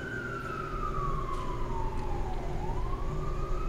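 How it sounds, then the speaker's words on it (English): A wailing siren in New York sweeps slowly down and back up over a low rumble of city traffic, heard from a distance outside. "Please ignore the siren."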